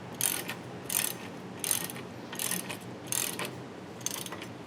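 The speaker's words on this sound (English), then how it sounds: "Wrench on the nut." Ratchet wrench tightening a nut while fitting a Bilstein shock on a Chevy Silverado or GMC Sierra truck, a run of about six bursts of clicking at an even pace, fairly close, with no talk.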